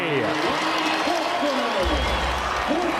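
A basketball arena crowd roars after Creighton's Kalkbrenner sinks a three-pointer against Butler, with a commentator talking over the loud, sustained cheering.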